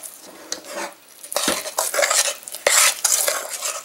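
A utensil scrapes and clinks against a bowl while sugar is worked into brownie batter, quiet at first and then busier irregular stirring strokes with sharp knocks near the end, close by with no talk.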